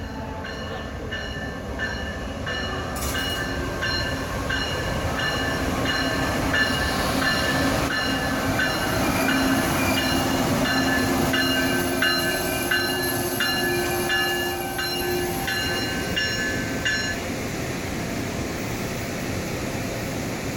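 A seven-car passenger train rolls into Kingston station, a loud continuous rumble of wheels and rail with steady high whining tones from the cars and traction motors, close by and unbroken for the whole stretch.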